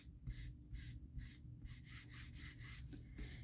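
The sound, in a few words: rubbing ink over an embossed card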